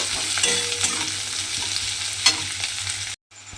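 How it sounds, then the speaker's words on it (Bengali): Chopped onion fries in hot oil with a steady close sizzle, broken by scraping stirs of a spoon in the pan, then a brief dropout near the end. "সেই পেঁয়াজ কুচিটা আমি তেলের মধ্যে দিয়ে দিলাম। দিয়ে পেঁয়াজটাকে একটু লাল করে ভেজে নেব।"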